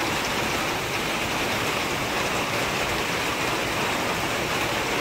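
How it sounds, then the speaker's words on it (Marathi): Heavy monsoon rain in the Konkan countryside pours down as a dense, continuous roar of steady hiss, loud and unbroken with no other sounds. "तुफान पाऊस आहे, भरपूर पाऊस आहे"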